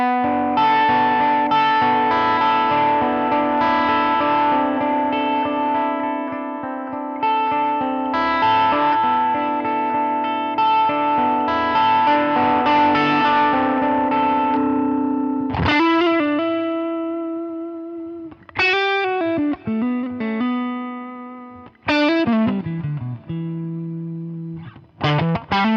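Electric guitar on the bridge pickup through a Line 6 Helix Ventoux lead amp model based on the J Rockett Dude: a thick, sustained distorted chord rings for about fifteen seconds, then separate picked chords and notes ring out with gaps between them.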